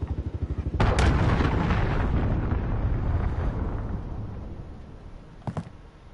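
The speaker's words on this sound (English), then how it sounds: "Enemy cruise missile incoming" Deep booming explosions from a cruise missile strike in a video game rumble heavily, starting with rapid thudding and then a sustained roar with sharp cracks, with no talk.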